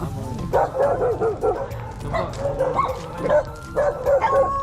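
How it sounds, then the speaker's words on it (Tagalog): Several dogs bark and yip in repeated bursts at mid distance, with some whimpering between, while people talk faintly in the background. "Ang daming aso ah."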